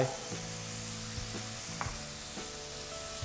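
Ginger stir-fried in a pan with sea bass and Chinese bamboo shoots, a continuous close sizzle with a few sharp scraping stirs of the utensil against the pan.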